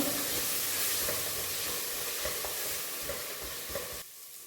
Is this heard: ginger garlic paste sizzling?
yes